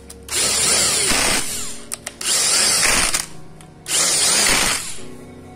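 A power tool tightens three screws on an Italika FT 150 motorcycle engine during reassembly. It gives three loud, close bursts of whirring with a ratcheting edge, separated by short pauses.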